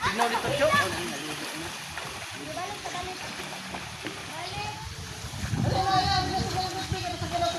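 Children bathing outdoors splash water in bursts over a steady watery background, while voices talk and call out close by.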